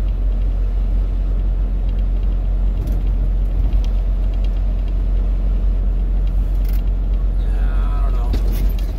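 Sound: trucks driving and braking at a lot

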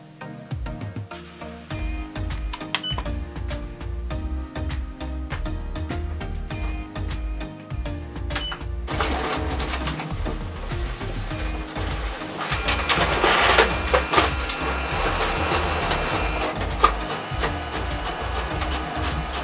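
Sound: Canon inkjet printer making colour copies

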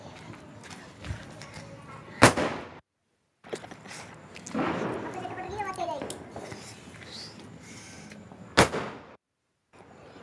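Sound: firecrackers exploding during Diwali

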